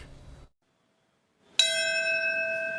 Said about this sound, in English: the sound of bells mixed with tearful moments of silence marked grief and remembrance 22 years after the September 11th terror attacks